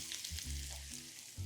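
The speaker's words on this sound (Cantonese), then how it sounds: "我要咧爆香咗啲洋葱先嘅" Thinly sliced onion, about one whole, sizzles steadily in hot oil in a pan, a close, continuous frying hiss with low cooking-fan hum underneath.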